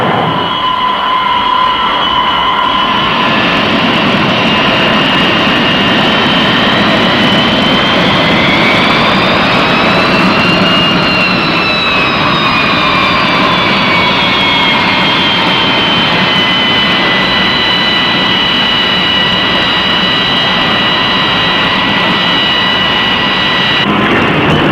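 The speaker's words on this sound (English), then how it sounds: "The approach of the carrier on-board delivery plane is a welcome sight" A carrier on-board delivery plane approaches an aircraft carrier with a steady, loud jet-engine whine and roar, its high tones rising and then falling as it passes closest, and a constant rumble beneath throughout.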